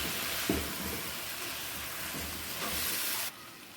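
Kebabs sizzle steadily in a pan of masala as they are stirred in for dum kebab, a continuous close hiss of frying with a brief scrape early on and no talk.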